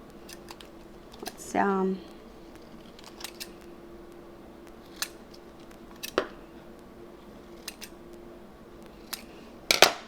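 Scissors snip through HTV heat-transfer vinyl in a few sharp, close, separate cuts spread across the clip, with a brief spoken word near the start and light handling noises.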